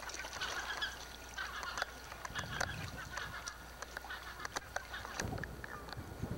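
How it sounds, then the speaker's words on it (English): Gull chicks calling on an isolated island rookery in a Norwegian fjord, repeated harsh honking and squawking cries at varied distances over a low background rumble of wind and water, with no talking. "These gull chicks are doing what all gull chicks do."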